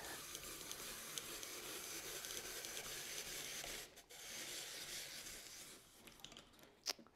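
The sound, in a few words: peeling and coring an apple with a peeler for apple pie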